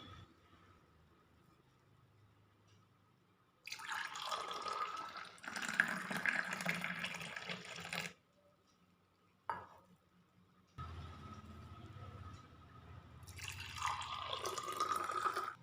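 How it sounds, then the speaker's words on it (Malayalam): Masala tea poured from a vessel into a serving glass, heard as two bursts of liquid splashing and trickling separated by quiet gaps, close and moderately loud. "ഇനി നമുക്ക് സെർവിങ് ഗ്ലാസ്സിലേക്ക് ഒഴിക്കാം."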